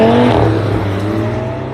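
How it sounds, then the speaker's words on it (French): Loud engine drone of a BMW M4 race car closing in from the distance, steady high revs with harmonic whine, a Golf 7 GTI TCR running nearby on the circuit. "la Golf 7 GTI TCR à côté et la M4 qui arrive au loin"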